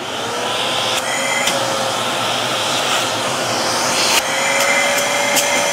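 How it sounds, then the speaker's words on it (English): A Vevor 2.5 gallon wet dry shop vac runs steadily with a loud, even motor whine and airy rush, close up and uninterrupted, with a few faint knocks. "I'd say it's probably half as noisy as the last wet dry vac I have"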